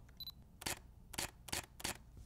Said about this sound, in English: One of the things I love the shutter sound and click of this camera.